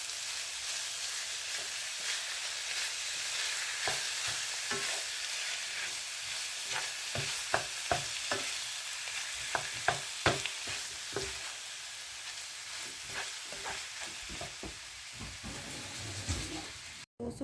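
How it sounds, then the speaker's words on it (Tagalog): Ground beef sautéing in a pan for tortang giniling, a quiet steady sizzle with scattered scraping and stirring clicks from a utensil throughout. "Gisa ko muna."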